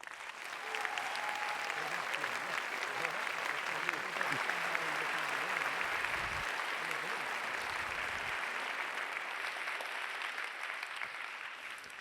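Lecture hall audience applauding continuously for Nobel chemistry laureate John Jumper, a dense, even clapping that holds steady for the full stretch with a faint murmur underneath.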